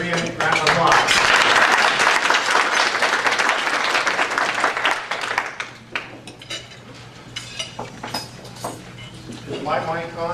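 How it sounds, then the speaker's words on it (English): Audience at a Greater Dayton property-appraisal talk gives a loud, sustained round of applause that fades after about five seconds into scattered claps and a few voices. "Greater Dayton round of applause."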